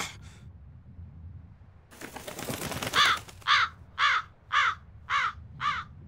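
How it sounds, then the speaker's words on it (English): A crow in Tales of Berseria gives a run of about six harsh caws in a steady rhythm. A brief burst of flapping comes before them as the bird flies off with a coin. "That crow just flew off with the coin!"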